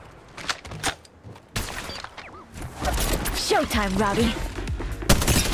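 Gunfire in the Apex Legends Mobile game, with bursts of rapid shots and impacts. Game sound effects and in-game voice lines play over the shooting, which grows denser toward the end.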